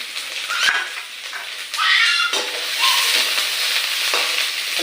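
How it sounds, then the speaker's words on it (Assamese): Potatoes fry in a pan of oil while chicken curry is being cooked, giving a steady close sizzle with occasional stirring scrapes and brief clatter, with no talking. "আলুখিনি ভাজি দিছে।"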